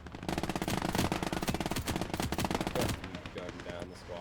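Rapid machine gun bursts ring out loud and close in a Gates of Hell: Ostfront tournament PvP battle, dense rattling fire for about three seconds before thinning into scattered shots, with a voice speaking over the firefight.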